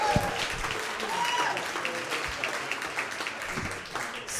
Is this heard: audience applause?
yes